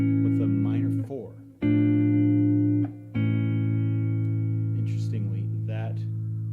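Guitar playing open, spread triads, moving from a one chord to a minor four: sustained, ringing chords struck one after another with brief gaps, harmonics decaying slowly, with faint handling noise between strums.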